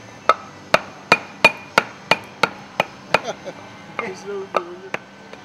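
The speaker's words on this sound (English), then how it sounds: "Use a hammer and a piece of wood to hammer the piston into place in the air cylinder." A hammer drives a wooden block to tap a piston into the air cylinder of a MAN B&W MC engine exhaust valve, about nine sharp, evenly spaced knocks close up, followed by softer scraping and a brief voice.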